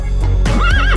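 A loud, close horse neigh, a brief rising and wavering whinny with a faint clip-clop of hooves beneath it.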